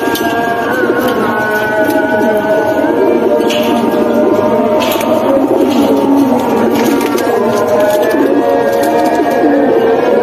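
A silver pigeon coos close by, soft repeated calls over a loud, steady background din.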